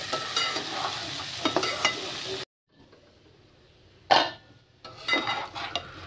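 Uncooked pulao rice for vegetable pulao frying in a pan while being stirred: steady close sizzling with scraping spoon strokes, a brief drop to near silence, then a sharp scrape and renewed sizzling and stirring.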